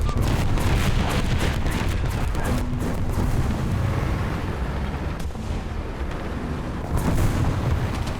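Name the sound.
artillery fire in the video game War Thunder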